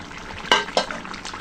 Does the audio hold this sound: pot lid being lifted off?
yes